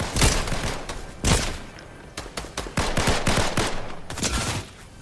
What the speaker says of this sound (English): Oh, yeah, I'm getting shot from behind now.